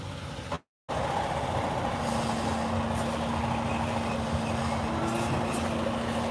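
A semi truck with trailer reverses slowly in snow, producing a steady low engine rumble with a faint sustained whine, heard from a moderate distance after a brief dropout.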